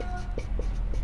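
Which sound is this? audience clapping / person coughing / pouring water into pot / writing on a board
writing on a board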